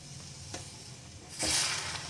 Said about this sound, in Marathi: मी एका गंजामध्ये गरम पाणी केलं होतं, ते आता यामध्ये सोडून द्यायचं